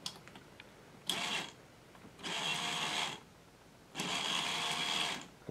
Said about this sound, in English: Let's try this again with the motor in the opposite direction.